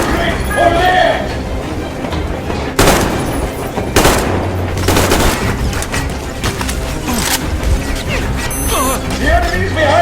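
Gunfire erupts in the Metro Exodus video game: loud, sharp bursts and rattling volleys repeat through the battle, mixed with shouting voices and rumbling background noise.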